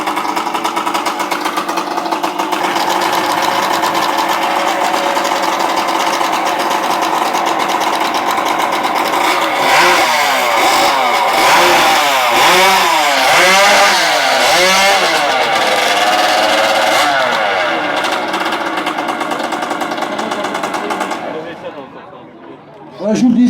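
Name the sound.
racing chainsaw with kart engine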